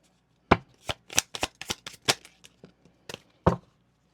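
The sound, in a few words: oracle cards being shuffled and drawn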